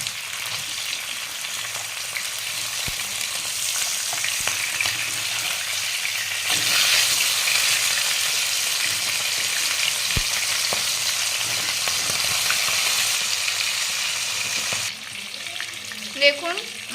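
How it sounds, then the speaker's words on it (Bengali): Pomfret fish deep frying in mustard oil after being flipped: a continuous close sizzle with occasional sharp pops and utensil taps, swelling briefly midway and easing near the end. "দেখুন মাছগুলো ভাজা হয়ে গেছে, এবার আমি এগুলো তুলে নেব।"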